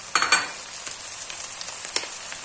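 Peeled, diced large tomato tipped into a hot pan for a baked minced-meat and potato dish, giving a steady broadband sizzle with a couple of brief louder splutters as the pieces land, close and alone.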